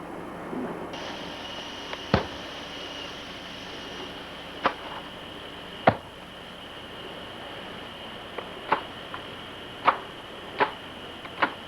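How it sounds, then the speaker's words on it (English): Sharp, isolated chops strike at irregular intervals as coconuts are cut open, each a hard crack against something solid, over a steady background hum. "It's our gardener Ronnie cutting us some coconuts for our milkshakes"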